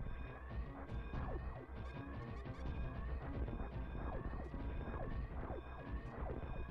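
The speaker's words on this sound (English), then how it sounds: "There's this big exploding siren thing going off." An alarm siren blares without a break in the video game Hyper Metroid, loud and wavering, with rumbling crashes of collapse and explosions mixed in.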